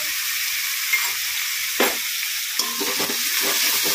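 Spice masala with salt, turmeric and chili powder frying in oil for egg do pyaza, a continuous close hissing sizzle with a few scraping stirs.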